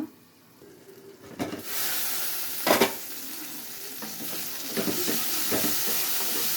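Chopped tomatoes hit a hot pan for a broad bean and tomato curry, giving a steady close sizzle and hiss with scraping stirring strokes at intervals and no talk.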